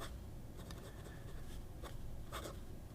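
An Italian fountain pen with a flexible fine nib scratches softly across paper in short strokes and taps, faint and close over a steady background hiss, with no talking.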